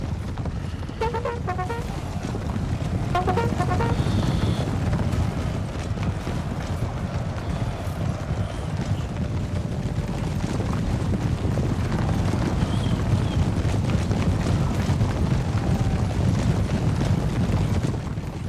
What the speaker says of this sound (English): The Saddler's horses was so loud.